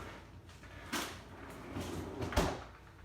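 A freezer door is opened and shut to put in chocolate chips, with a soft thump and rustle followed by a firmer close about a second and a half later, fairly quiet with no voices.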